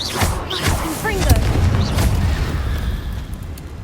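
Confringo blasting curse explosions in Hogwarts Legacy gameplay: dense, rumbling bursts of crackling blast noise with brief magical chirps, loud and continuous across the game mix.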